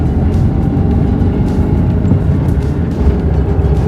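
Tata Nano LX car driving, with a loud, steady low engine rumble and road noise heard close up inside the cabin, broken by a few brief knocks.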